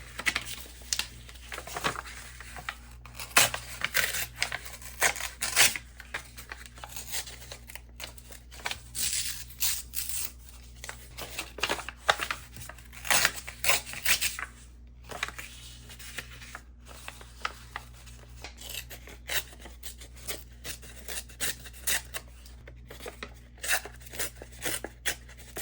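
Packaging is cut and torn by hand to make a messy tag for an art journal page, with soft intermittent snips, rips and crinkling rustles close by at low volume and no voices.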